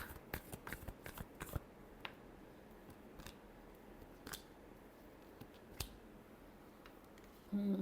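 Tarot cards being shuffled by hand in a final shuffle, a series of quick riffling snaps and clicks, dense at first then sparser, close and quiet with no talking.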